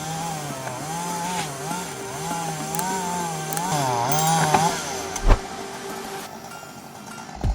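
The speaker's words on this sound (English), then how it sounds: "It's unbelievable that such power comes from a tiny chainsaw." A small, compact chainsaw cuts through uprooted tree roots and trunks with a loud, steady engine whine that rises and falls as the load changes, followed by a sharp thump and a brief lull near the end.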